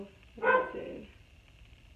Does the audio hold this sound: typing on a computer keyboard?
no